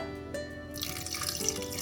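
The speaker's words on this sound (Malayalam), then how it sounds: "ഇനി നമുക്കിതിലേക്ക് കുറച്ച് വെള്ളം ഒഴിക്കാം" Water poured into a pan of prawn roast in a home kitchen, a short splashing pour with dripping, then a sizzling hiss as it hits the hot pan, close and fairly quiet.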